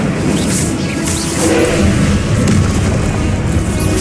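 An Incendio fire spell cast in Hogwarts Legacy, a loud whooshing boom of flame that roars steadily and builds slightly, with no talk over it.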